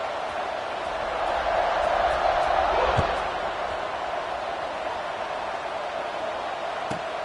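A stadium crowd in the College Football 26 video game, a steady broad roar of cheering that swells slightly around the middle and sits at a moderate distance.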